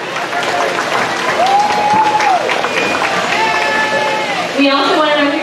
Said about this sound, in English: We can give them a big round of applause for all of their hard work